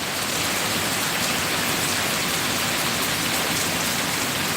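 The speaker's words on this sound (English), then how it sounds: "This is the rain." Rain pours down outdoors in a dense, loud, even roar of drops striking surfaces, holding steady throughout with no voices.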